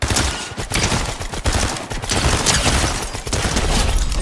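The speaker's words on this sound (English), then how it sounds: "Let's see this drum gun in action" A drum gun fires in a Batman-versus-Zeus-and-Hades video game, a loud, dense volley of rapid shots that rattles on almost without pause, with only brief dips between bursts.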